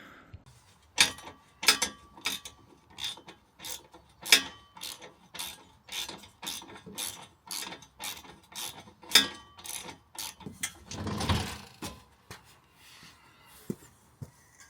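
Rusty screws holding a bar on a vehicle are worked loose with a hand tool, giving a steady run of sharp ratcheting clicks close by, followed by a short scraping rub near the end.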